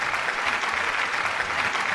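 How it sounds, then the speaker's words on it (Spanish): Dense, steady applause from a studio audience on a talk show, continuous even clapping with no break. "entrar los aplausos, que cesen los aplausos"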